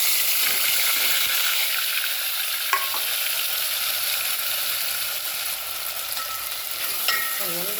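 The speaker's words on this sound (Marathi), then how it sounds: "तेल तापल्यानंतर आपल्याला हे आलं खोबरं लसूण याची पेस्ट केलेली आहे आणि ही आता आपल्याला यामध्ये टाकायचं आहे" Ginger, coconut and garlic paste sizzling in hot oil, a loud steady hiss with occasional stirring scrapes and clinks against the pan, no talking.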